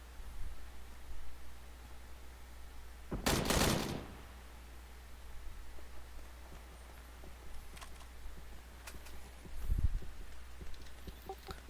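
Gunfire in PUBG on the Miramar desert map: a short burst of rapid loud shots, then a single distant crack later over steady wind-like ambience.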